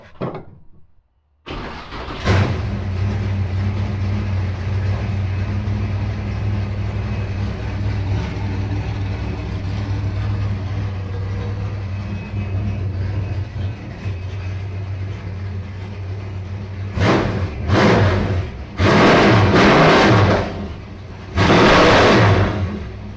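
A car engine with spark plug wires on and throttle pumped starts up, then runs at a steady loud idle for a long stretch, followed by a few sharp revs near the end.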